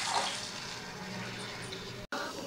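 Water is poured into a cooking pan while making oats khichdi, a steady broadband splashing rush that runs evenly for a couple of seconds before a brief cut, with no one speaking.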